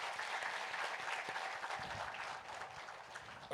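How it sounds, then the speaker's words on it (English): An audience applauding at a Women's History Month event, steady dense clapping from a room full of people throughout, slightly easing toward the end. "So please clap for yourselves."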